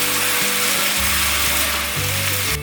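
Tomato, enoki mushrooms and celery with a squeeze of lemon stir-fried over medium-low heat in a pan, giving a steady close sizzle with low scraping pulses from the spatula, no talking.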